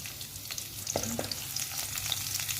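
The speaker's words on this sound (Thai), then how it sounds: "ใส่น้ำมันลงไป นิดหนึ่ง แล้วใส่กระเทียมเลย" Garlic frying in a little oil in a hot pan over medium heat gives a steady, close hiss and crackle, with a light scrape or two of stirring and no talking.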